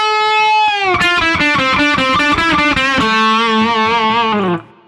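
A sustained distorted electric guitar note gives way to a fast run of picked notes and bends, then a held note with vibrato that fades out, a lick from a solo; loud and unaccompanied.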